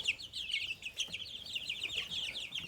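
Farm chickens and young chicks from a brooder box cluck and chirp continuously at close range, a busy chatter of overlapping calls with no one talking.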